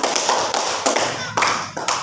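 Students in a classroom give a short round of applause for a group, several claps landing together in distinct bursts roughly every half second, close and fairly loud.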